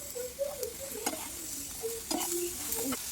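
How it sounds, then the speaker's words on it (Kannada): Black pepper, cumin, Byadgi chilies and tomatoes frying and being stirred in a pan for chicken sukka, with a steady sizzle and scattered spoon scrapes and clinks, fairly quiet and close, no talking. "ಅದಕ್ಕೆ 1 ಸ್ಪೂನಷ್ಟು ಕರಿಮೆಣಸು ಮತ್ತು ಸ್ವಲ್ಪ ಜೀರಿಗೆ, 3 ಬ್ಯಾಡಗೆ ಮೆಣಸು ಮತ್ತು 2 ಟೊಮೊಟೊ ಇಷ್ಟು ಚೆನ್ನಾಗಿ ಫ್ರೈ ಮಾಡ್ಕೊಳ್ಳಿ"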